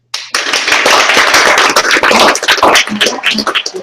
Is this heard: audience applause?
yes